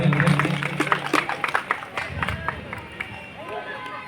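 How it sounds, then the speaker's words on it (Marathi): Clapping from a crowd at a women's organization anniversary ceremony in Diva, a dense patter of many hands close by, mixed with voices and fading toward the end. "जोरदार टाळ्या होत्या"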